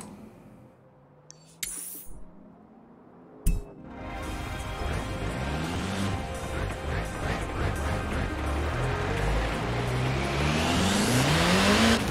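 Car climbing off-road in Forza Horizon 4, engine revving and rising steadily through rough terrain after a few sharp clinks and a thud, growing louder toward the end with no talk over it.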